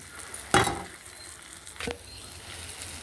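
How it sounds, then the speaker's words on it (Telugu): Onions and curry leaves drop into hot oil for a tempering in a cashew curry, giving a sharp sizzling burst near the start and a second shorter sizzle later, close and fairly loud with no talking. "ఇప్పుడు ఉల్లిపాయలు, కరివేపాకు వేస్తున్నాను."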